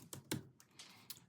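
A handful of keystrokes on a computer keyboard, soft irregular clicks spaced apart, close but faint.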